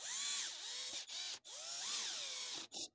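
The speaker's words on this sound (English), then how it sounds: "now I can drive in the screws" A power drill drives screws into a pocket hole joint in two close, loud whirring bursts that rise and fall in pitch, each stopping sharply, followed by a short final spin.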